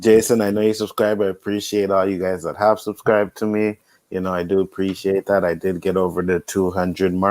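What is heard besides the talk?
No everyday noise stands out behind the speech.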